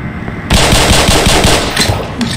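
Automatic weapon fire from the Black Mesa video game, a loud sustained burst of rapid shots that starts abruptly after a short quiet lead-in, followed by a couple of trailing impacts.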